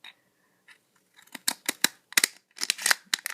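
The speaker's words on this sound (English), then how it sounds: "I'm just going to follow this line so it's a sharp." Scissors snip through filter material along a marked line in a quick run of close, crisp cuts, starting sparse and then coming in tight clusters.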